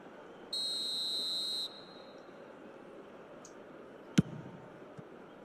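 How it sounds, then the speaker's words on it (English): Referee whistle in the eFootball football video game: one sustained, fairly loud blast of about a second over steady crowd noise, followed later by a sharp click. "And the whistle's gone, presumably for offside."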